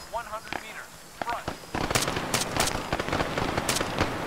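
Arma 3 gunfire: sparse single shots come first under a voice giving commands, then a sharp crackling volley of rapid shots from several weapons at close range, with talk continuing underneath.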